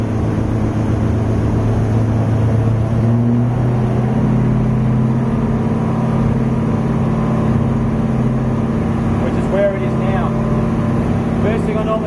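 A Pratt & Whitney R2800 radial engine on its first run holds a steady, loud, droning roar at around 2,000 RPM throughout, with faint voices briefly audible beneath it.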